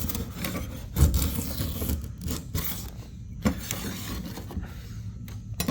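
A putty knife scrapes along a box van's body in close, steady rasping strokes with a few sharper scuffs, heard on its own without talking.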